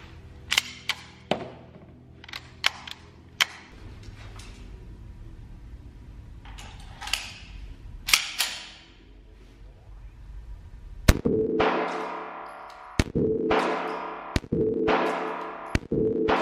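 A CZ 75 pistol loaded with a full magazine fires sharp, cracking shots, scattered singly and in quick clusters, with louder closer reports near the end and quiet gaps between.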